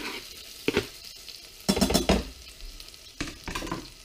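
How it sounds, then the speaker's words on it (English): Chopped small onion fries in melted butter in a pan, a soft sizzle running beneath repeated louder bursts of stirring and utensil clatter against the pan. "Grams of butter melted, one small onion"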